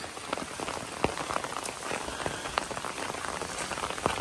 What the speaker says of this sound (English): I'm out here in the rain